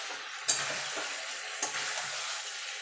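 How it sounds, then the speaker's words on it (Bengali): Vegetables are stirred with mustard-poppy paste in a pan for Bengali dudh sukto, giving a soft continuous sizzle with two sharper scrapes of the spoon against the pan. "এবার মিনিট খানিক সবজির সঙ্গে ভালো করে সর্ষে পোস্তটা মিশিয়ে নেব।"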